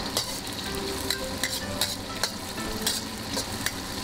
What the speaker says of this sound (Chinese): 锅中先炒香葱姜，再下入剩下的香料，炒出香味